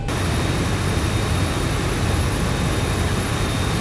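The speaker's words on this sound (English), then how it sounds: "both engines are started" Steady, loud roar of Boeing 737-800 jet airliner engines running in the X-Plane 11 flight simulator, with a constant high-pitched whine layered over broadband rumble and no talking.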